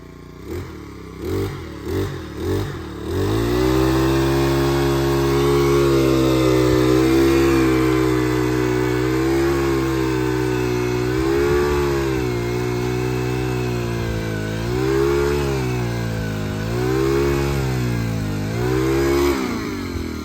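A new tractor's engine revved hard after warming up, a few sharp throttle blips then a loud sustained roar near the microphone that surges and dips several times.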